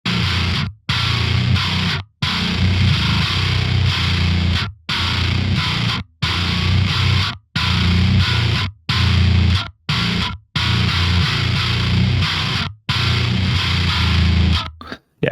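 Heavily distorted, pitch-shifted electric guitar chugging in short, tightly gated bursts separated by abrupt silences, dense and loud throughout.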